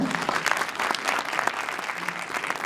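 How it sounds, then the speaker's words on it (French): A film festival crowd applauds a Moroccan actor, steady dense clapping from many hands filling the room, moderately loud and unbroken, with a few voices faintly underneath. "Vous pouvez faire un applaudissement au maître, un des plus grands acteurs marocains, Younes Megri"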